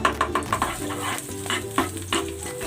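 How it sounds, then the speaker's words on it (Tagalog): Butter sizzling in a pan while making bechamel (white sauce), with a steady frying hiss broken by repeated stirring knocks and scrapes of a utensil against the pan. "gagawa ako ng sauce. Bechamel or white sauce. Maglalagay ako ng butter."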